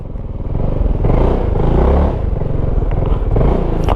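A Zontes 368G motorcycle ridden slowly at full steering lock on a narrow road, its engine close and loud with a low pulsing rumble that swells and eases with the throttle, plus light clatter.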